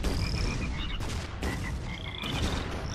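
Frogs croak in the artillery game ShellShock Live, a dense, continuous chorus of loud rattling croaks with repeated short high whistling chirps, alone with no talk.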